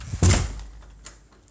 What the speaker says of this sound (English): Got to lock the door.